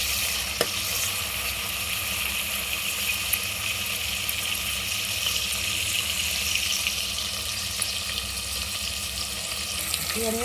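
Bay leaf, cloves and cinnamon frying in hot oil give a steady, close sizzle that holds evenly throughout, with a faint clink or two and no talk.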